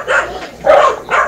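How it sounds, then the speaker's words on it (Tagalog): A dog barks loudly three times in close succession, each bark short and sharp with brief pauses between, up close and alone. "Ingay yung aso."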